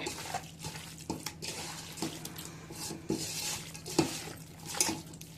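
Prawns being stirred and tossed with turmeric and rava in a metal pan, giving repeated scraping and clinking of a spoon against the pan, close and steady, with no voices.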